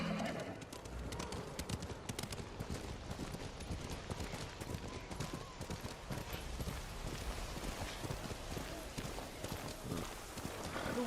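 Horse hooves clip-clop in a quick, steady rhythm through snowy weather in the video game Ghost of Tsushima, mixed with a busy, noisy game soundscape.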